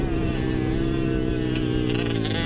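Racing motorcycle engine at a provincial race, a loud, continuous high-revving drone with dense harmonics that holds steady and shifts slightly in pitch.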